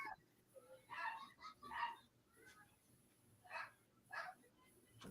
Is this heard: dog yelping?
yes